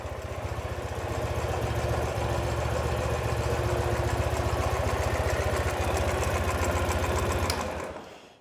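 A 2015 Ural Gear Up 2WD motorcycle engine idles steadily and smoothly at close range, a constant low throbbing rumble that cuts off abruptly near the end.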